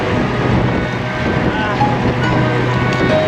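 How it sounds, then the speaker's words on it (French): Strong, violent wind buffets a cyclist on the road, a loud continuous rushing roar of gusting air and microphone buffeting that carries through the whole moment. "Et là, le vent, il est violent, très violent."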